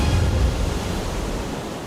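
Rushing water in a Yamaha advertisement, a steady broadband wash like surf or churning spray, loud and continuous for the whole moment with no voices.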